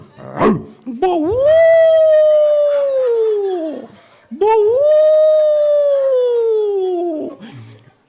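A voice imitates a dog howling, giving two long drawn-out howls, each a few seconds long and separated by a brief gap, loud and close.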